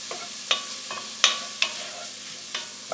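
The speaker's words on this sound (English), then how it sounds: "Now I'm going to add 3 cloves of garlic. And just saute that for about a minute." Three cloves of garlic sauté in a pan with bacon drippings for Hungarian red kidney bean soup, with a soft sizzle under sharp, irregular clicks of a utensil striking the pan.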